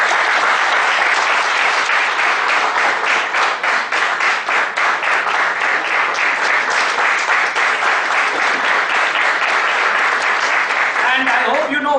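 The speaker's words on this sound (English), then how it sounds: "A big round of applause." Loud, sustained applause from a seminar audience at a technical session on auditing bank branches, many hands clapping steadily and dense throughout, with a voice emerging as it fades at the end.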